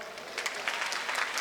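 Audience at a stand-up comedy show breaking into applause, a short burst of many claps rising after a quiet start, moderately loud and a little distant.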